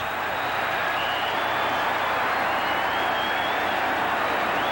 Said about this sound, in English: This is a traditional type of cheer that they do, and maybe the best organized cheer in the National Football League.